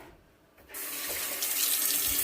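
Water pours from a tap into salsa for carne en su jugo, rushing steadily and loudly after a quiet start and holding a continuous splashing stream to the end.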